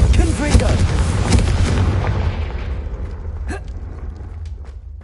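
Spell explosions go off in the Hogwarts Legacy video game: dense, loud blasts and rumbling booms crowd the opening seconds, then fade into a lingering roar with a last sharp crack, under a voice.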